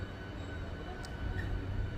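A Hubballi–Arasikere MEMU train pulls out of Byadgi station, its steady low rumble and faint hiss carrying on continuously, with a brief sharp metallic tick partway through.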